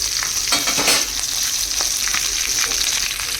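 Onions sizzling in hot oil with cumin seeds, mustard seeds, curry leaves and dried red chillies for a spinach dal tempering, a steady close crackling fry with light stirring, no voices.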